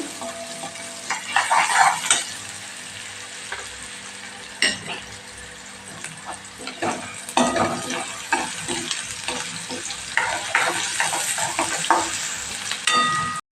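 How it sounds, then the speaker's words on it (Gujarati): Chopped onions sauté in a pan while a spoon stirs them, giving repeated metallic scrapes and clinks over a soft, steady sizzle, close and without talk. "ડુંગળી એકદમ સોફ્ટ થાય ત્યાં સુધી આપણે એને સાતળવાની"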